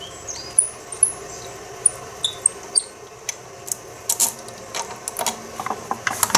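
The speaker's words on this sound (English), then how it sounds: "We need to remove bolt" Ratcheting tool clicking in short bursts while a bolt is loosened from the top of an e-scooter fork, close and fairly faint, with sharp metallic ticks and squeaks between pauses.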